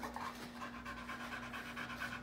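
A female working-breed dog pants hard and steadily right after energetic flirt pole play, quick rhythmic breaths close to the microphone over a constant low electrical hum.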